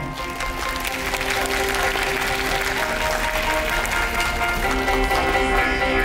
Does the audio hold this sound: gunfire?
no